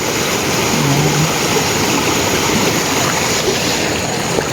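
A river beside rice fields rushes loudly and steadily at close range, a continuous wash of flowing water with no breaks.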